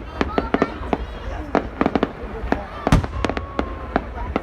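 Fireworks burst in a string of sharp, crackling bangs, some single and some in quick clusters, echoing at moderate distance over about four seconds while people chat in the background.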